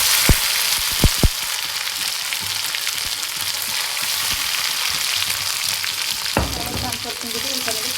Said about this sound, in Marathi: हे बघा, मोहरी टाकली, जिरे आहेत, हे अद्रक लसूणची पेस्ट आहे